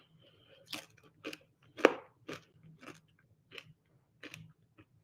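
Someone chews crunchy food cooked in a Cosori Pro II air fryer, with about a dozen separate crisp bites and crunches spread over a few seconds. The sounds are close and fairly quiet, alone, with no talking.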